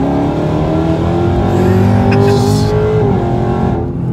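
A car accelerates hard during a pull, its engine note climbing steadily and loudly for about three seconds before easing off as the throttle lifts.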